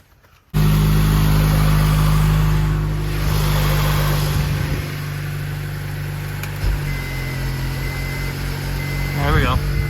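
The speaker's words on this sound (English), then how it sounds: "I gotta start the car." An engine cranks and catches, then idles loudly with rough revving and a few throttle blips, close up, with a voice briefly speaking over it.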